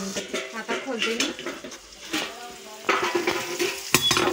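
Soft clinks of a spoon against a pot and a lid being lifted as sabudana cooks, with faint sizzling and scraping stirs; quiet, close, and intermittent.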